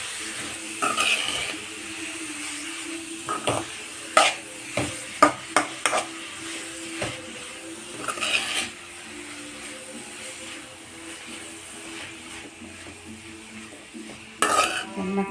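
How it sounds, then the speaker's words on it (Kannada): Salted beetroot palya is stirred in a pan, with irregular scraping and clinking strokes over a faint sizzle, some in quick bursts and a louder flurry near the end. "ರುಚಿಗೆ ಫಸ್ಟ್ ಉಪ್ಪು ಹಾಕಿ ಚೆನ್ನಾಗಿ ಕಲಿಸ್ಬೇಕು ಸ್ನೇಹಿತರೆ"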